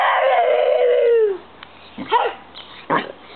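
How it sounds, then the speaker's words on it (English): A dog lets out a drawn-out howling whine that falls in pitch, followed by a couple of short, sharper yelps or barks up close. "He's still barking."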